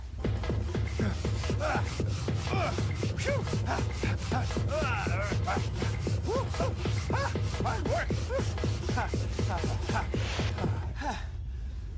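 A weight pushed back up a ramp several times, scraping and rubbing with friction in rapid rhythmic strokes, loud and close, with rasping grinding tones throughout before stopping near the end.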